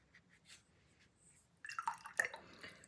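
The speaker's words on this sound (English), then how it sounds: "Rinse my brush" A watercolor paintbrush is rinsed in a small container of water, giving soft drips and light sloshing that start quietly and grow busier and closer in the second half, with no talking.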